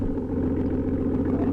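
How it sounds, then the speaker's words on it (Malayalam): Aston Martin Vanquish grand tourer exhaust rumbling steadily at close range, a deep continuous engine drone with no talk over it. "നമുക്ക് ആ ഒരു എക്സോസ്റ്റ് നോട്ട് ഒന്ന് കേൾക്കാൻ വേണ്ടി, നിങ്ങളെ കേൾപ്പിക്കാൻ വേണ്ടിയിട്ട് ഞാനൊന്ന് മൈക്കൊന്ന് എടുക്കാം"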